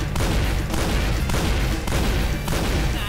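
Rapid automatic gunfire from a first-person shooter played with a Razer DeathAdder 2013 mouse, loud and continuous bursts with brief gaps, emptying a magazine in about three seconds.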